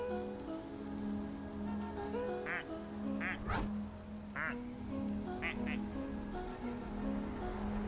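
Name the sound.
plastic toy duck quacking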